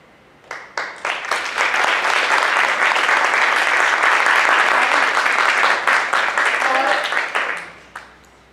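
Dense audience applause at a drama performance, rising quickly and sustained for about seven seconds before fading, loud and full with scattered sharper claps at the edges.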